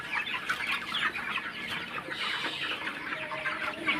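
A shed of broiler chickens clucks and chirps on a poultry farm, a dense steady chorus of many birds nearby with no talking.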